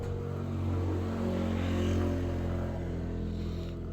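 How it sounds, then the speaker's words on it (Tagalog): Motorcycles and cars pass along a road in a continuous engine drone that swells and eases as vehicles go by, moderately close and without talk. "medyo marami-raming motorsiklo na dumadaan"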